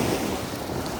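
Black Sea surf breaks on a sandy shore beside a campground with a steady washing roar, close and moderately loud, mixed with wind buffeting the microphone.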